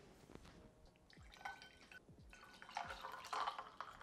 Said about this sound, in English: I'm gonna pour myself a drink while you guys go get yours